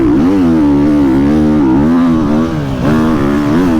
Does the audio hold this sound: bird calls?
no